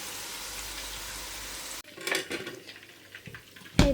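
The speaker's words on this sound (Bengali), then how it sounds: "তো সব দিয়ে দিলাম এখানে এটা হালকা হিটে ভাজা হবে" Food frying on low heat in a pan for a children's fried rice dish, a steady soft sizzle that cuts off abruptly, followed by scattered clinks of utensils against cookware and a sharp clatter at the end.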